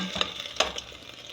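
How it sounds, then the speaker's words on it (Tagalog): Scrambled egg frying until crispy in a pan, a bright continuous sizzle broken by a couple of sharp scraping stirs of the spatula. "So this is my scrambled egg. I want little bit crispy, so I make it little bit crispy."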